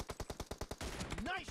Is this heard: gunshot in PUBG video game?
yes